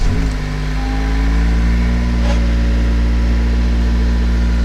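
Rebuilt engine of a previously wrecked Honda Civic running steadily, with a loud, constant low idle hum and a slight rev near the start, heard close and alone without talk.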